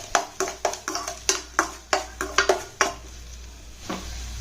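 Whole spices with cardamom are sautéed in oil for a paneer butter masala gravy: a spatula knocks against the pan in a quick run of distinct taps over a faint sizzle, then stops.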